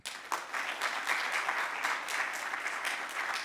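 A conference audience applauds to welcome speakers on stage at a business event in Nantes, the dense clapping sustained and steady throughout with no talk over it.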